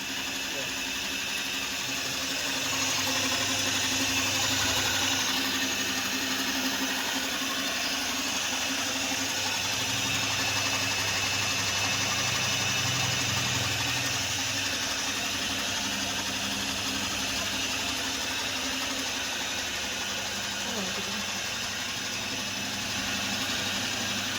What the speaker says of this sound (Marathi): दहा ओरिजिनल लक्ष्मी गिरणी विथ मोटर